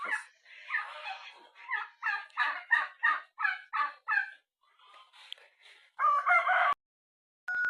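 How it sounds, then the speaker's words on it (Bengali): Native chickens cluck and call in a lively series of close, repeated bursts, with a louder crow-like run near the end and short pauses between, at a rural resort near Santiniketan. "আমরা খালি দেখছি কটা দেশি মুরগি রয়েছে"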